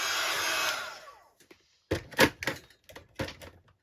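A craft heat tool blasts air over freshly stamped ink, a steady loud whoosh lasting about a second before cutting off, followed by a few close tapping and clattering handling sounds.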